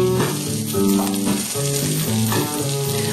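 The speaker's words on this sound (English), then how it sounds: "the onions are just sizzling happily." Continuous loud sizzling of a hot dog and onions frying in a hot pan, a crackling hiss with faint clinks and stirring, close up.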